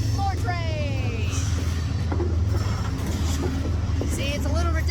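A long freight train rolls past with a steady low rumble and rattle of cars, brake squeals and screeches rising and falling over the continuous roar throughout.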